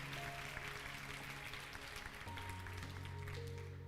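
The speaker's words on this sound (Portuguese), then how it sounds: "Aplauda ao Senhor bem forte." A church congregation claps during a Portuguese-language worship service, steady applause over sustained low musical tones from instruments, with no voices standing out.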